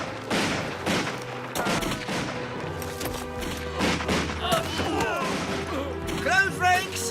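Musket volleys crack out in a film battle scene, several loud, close bursts of overlapping shots spaced a second or two apart, mixed with shouted commands, clattering and the din of fighting.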